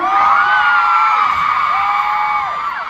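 A concert crowd shrieks and cheers loudly, a sustained wall of high-pitched screaming voices with rising whoops, close and continuous.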